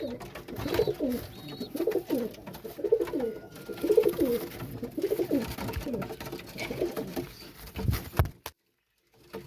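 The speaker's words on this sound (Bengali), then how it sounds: "তো পায়রা দুটো আমি আপনাদেরকে একটা একটা করে দেখাই" Two pigeons coo in a repeated, rolling rhythm, each call a low throaty burst coming close and clear, with faint shuffling noises between calls before it ends abruptly in silence.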